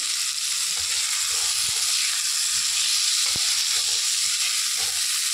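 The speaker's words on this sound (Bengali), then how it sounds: "এবার টমেটোটা ভালো করে একটু ভাজা ভাজা হয়ে নরম হয়ে আসলে" Tomato and green chili fry in hot oil with a steady, crackling sizzle throughout, close and even, with a couple of faint knocks.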